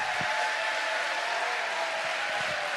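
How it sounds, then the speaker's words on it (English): A hall audience applauds steadily for medalists at the close of an event, a dense, even wash of clapping holding at a moderate level throughout with no voices standing out. "one last huge round of applause for all the medalists"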